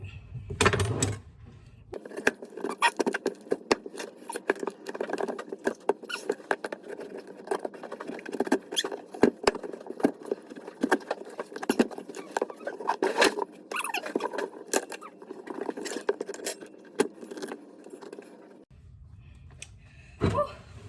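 A sharp knife forces its way through a tough raw spaghetti squash, giving close, irregular crunching, clicking and scraping for most of the stretch, framed by brief quieter moments.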